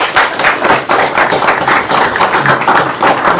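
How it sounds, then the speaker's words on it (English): A city council meeting audience applauds steadily, with dense, loud clapping carrying through the whole stretch and no speech over it. "Let's give them a round of applause."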